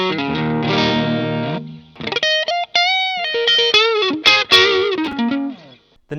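Electric guitar played through a Ryra Klone overdrive pedal used as a boost, giving a driven, saturated tone with sustained chords followed by choppier picked notes and phrases, loud and close with no talking.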